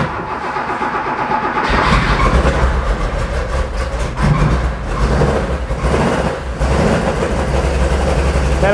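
A Porsche 911 2.8 RSR race engine catches and runs rough and loud up close, a dense, steady throbbing roar with uneven misfiring pulses throughout.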